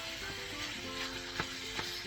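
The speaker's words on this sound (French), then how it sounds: "Ça commence à mijoter tout doucement." Minced meat simmers gently in a pan with a steady, soft bubbling sizzle, close and continuous, with no voices over it.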